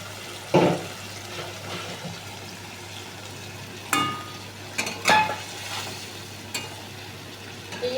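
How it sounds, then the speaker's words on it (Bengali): Ginger, cumin and chilli paste fries for egg chilli, giving a low steady sizzle with a few sharp scrapes and clinks of a spoon stirring the pan, no voices. "এটাকে একটু ভালো করে কষাবো।"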